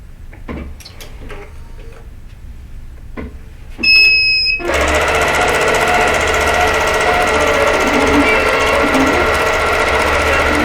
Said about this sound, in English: Most of what it's sewing right now is going to be trimmed off